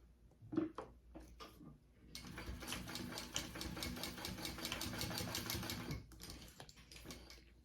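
A sewing machine bastes a gusset onto a crossbody bag, running in a steady rapid stitching rhythm for about four seconds, framed by a few clicks and handling noises before and after.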